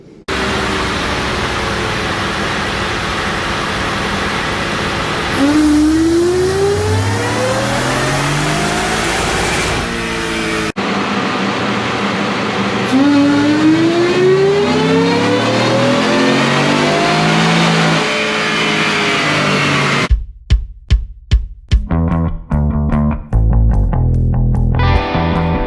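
Boosted 2021 Ford F-150 pickup revving hard on a dyno, the engine note climbing steadily through gears in long loud pulls, ending in a run of sharp pops and crackles.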